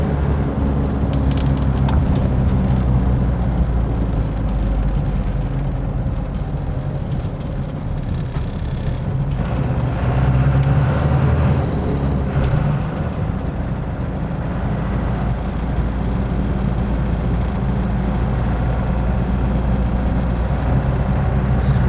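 A Jeep XJ Cherokee cruises at highway speed, filling the cabin with a loud, steady low-end engine and road drone, with rattles, shakes and wind rushing throughout and no talking.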